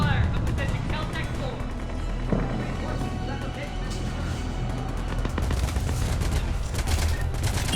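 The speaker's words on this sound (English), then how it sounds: "Taking enemy fire." Enemy fire in Mass Effect 3 comes as rapid, continuous bursts of gunfire, with a steady crackling volley under game voices and ambient combat noise throughout.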